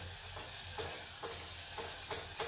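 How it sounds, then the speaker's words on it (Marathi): Masala spices fry in oil for a whole masoor dal dish, a steady close sizzle broken by several soft stirring scrapes. "तेलामध्ये चांगला परतला गेला आहे मसाला"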